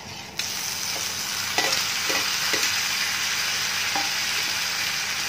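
Tomatoes going into lightly browned onions in a hot pan, a sudden jump in sizzling followed by a steady hiss, broken by several short spoon knocks and stirring scrapes, no one speaking.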